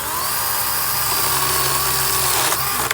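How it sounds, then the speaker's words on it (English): An electric chainsaw cuts through wood, giving a loud continuous motor whine with bar-and-chain rasp that stays steady for about three seconds before a brief knock at the end; no one talks. "start your chainsaw before you touch the wood"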